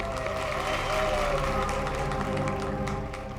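Audience applause at a charity event, a steady wash of clapping held at an even level for a few seconds, with faint talk and music underneath.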